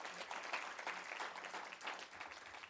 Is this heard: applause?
yes